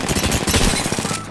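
Rapid gunfire in Apex Legends, a dense burst of loud overlapping shots packed into a short stretch, close and continuous before tapering off.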